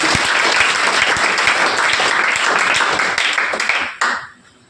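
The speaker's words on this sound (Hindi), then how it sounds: "एक बार सुरेंद्र जी सर के लिए जोरदार ताली" A school gathering welcoming top students gives loud, dense applause for teacher Surendra, a crowd of hands clapping close and steady before it breaks off abruptly near the end, leaving a fading tail.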